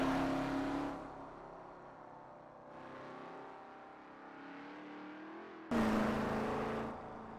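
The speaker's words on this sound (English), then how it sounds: "the sound of this car is very distracting." A sports car engine drones and rises in pitch on a drive toward Laguna Seca, with two sharp bursts of louder revving separated by a quieter, steadier cruising hum.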